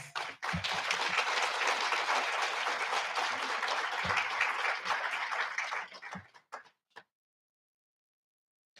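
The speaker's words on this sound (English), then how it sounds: "Give yourselves a round of applause." Applause from the crowd at a sheriff academy graduation ceremony, a dense sustained clapping for about six seconds that thins out into a few scattered claps and then silence.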